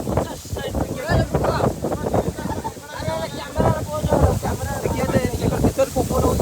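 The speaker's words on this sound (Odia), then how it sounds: "ବହୁତ ଜୋର ପବନ ହଉଛି ପବନ ମିନିମମ୍ 40-50 ସାଇଡ୍ ଦେଖିଅଛି" A strong wind buffets the microphone in loud, continuous rumbling gusts outdoors, with someone talking over it.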